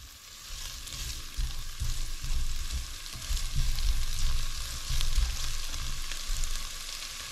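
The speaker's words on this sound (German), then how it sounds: "Und das wird jetzt einfach für einige Minuten angedünstet" Tofu and other ingredients sauté in a one-pot pasta pot outdoors, a steady close sizzle and crackle with soft stirring scrapes and low rumbling underneath.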